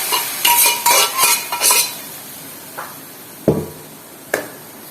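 Boiled, salted cassava pieces get stirred into a chicken fry in a pan: a run of scraping, clattering utensil strokes, then a few sparse knocks against the pan, close by with no talking.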